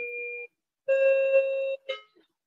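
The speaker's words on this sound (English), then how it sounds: "Sorry about the noise there, doorbell's ringing." A doorbell chimes during a selectboard meeting: a steady electronic tone, a pause, then a longer harmonic chime and a short third note, fairly clear and with no talking over it.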